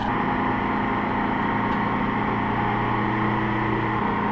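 A catamaran motoring out with engine trouble and black exhausts, its engine giving a continuous low throbbing drone with steady tonal hum, constant and fairly close, no talk.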